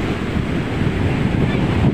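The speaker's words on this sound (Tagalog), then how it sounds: "namumuti na ang ating karagatan sa baybaying dagat." Large ocean waves break on a shore at high tide, a steady, loud rush of surf with wind buffeting the microphone throughout.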